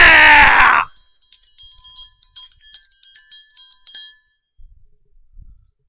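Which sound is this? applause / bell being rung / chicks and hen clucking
bell being rung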